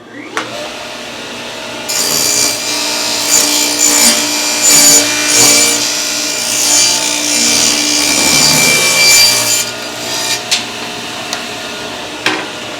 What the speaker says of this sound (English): he rips the scrap piece like that